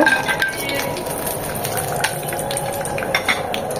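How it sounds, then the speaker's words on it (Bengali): Cashew nuts frying in oil in a pan for a cashew nut salad, a steady bubbling crackle with scattered sharper pops, fairly close and continuous. "এখন এখানে ক্যাশিউ নাটগুলো বা কাজু বাদামগুলো ভেজে নেব"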